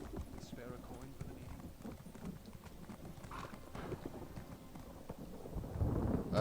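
A horse gallops in Elder Scrolls Online, steady rhythmic hoofbeats running continuously at moderate loudness, with a person talking over them and a louder rumble near the end.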